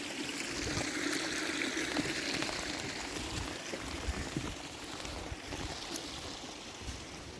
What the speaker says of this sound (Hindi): जगह जगह झरने मिलते हैं, जगह जगह।